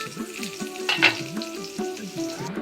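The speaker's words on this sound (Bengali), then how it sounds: "আর পটল ভাজা হচ্ছে" Slices of pointed gourd (potol) frying in oil in a home kitchen pan, a continuous close sizzle with rhythmic scraping of a spatula stirring and turning them, no voices.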